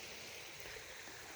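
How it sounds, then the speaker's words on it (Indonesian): River flowing below a durian orchard, a steady, faint broadband rush of running water heard from a distance, continuous and even with no voices. "Nah ini sungai ya, itu di bawah sungai itu."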